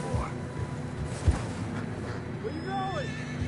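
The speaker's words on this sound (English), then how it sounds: "Horses are getting tired." A horse neighs in Red Dead Redemption 2 amid fresh snow, a rising whinny near the end over soft hoof clops and a low rumbling backdrop.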